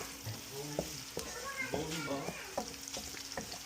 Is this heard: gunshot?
no